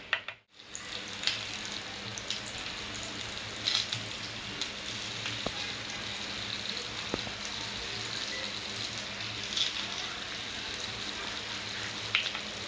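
Pomfret (halwa) fish frying in a pan of hot oil, a continuous close crackling sizzle with occasional brief pops and utensil taps, steady throughout with no talk.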